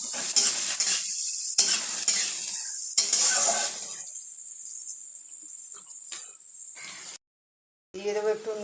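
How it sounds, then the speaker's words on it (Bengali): Onions hiss and crackle as they drop into hot oil in a wok, a loud, bright sizzle with a few stirring clatters early on, settling into a steady fry before a brief silence and a short burst of sound at the end. "পেঁয়াজগুলো আমি তেলের মধ্যে ছেড়ে দেবো"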